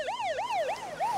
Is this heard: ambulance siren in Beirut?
yes